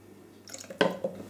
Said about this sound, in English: then that just gets measured on top of the water